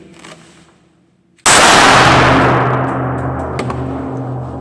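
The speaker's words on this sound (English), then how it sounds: "we're gonna fire the Walther PK380" A Walther PK380 pistol fires a single loud, sharp shot close by after a moment of near quiet, its blast ringing out and slowly fading over the following seconds.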